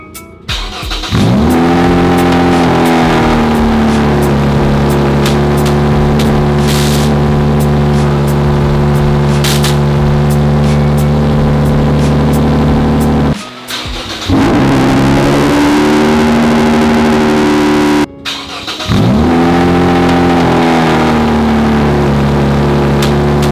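A car engine fitted with a homemade foam-packed cold start silencer revs loudly and close by in three long sustained bursts, each separated by a brief drop, with a muffled but strong engine drone.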